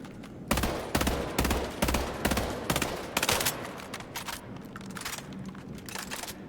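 Saber rifle fire from the video game Highguard comes as a rapid string of sharp, loud shots in a steady rhythm, easing slightly toward the end of the burst.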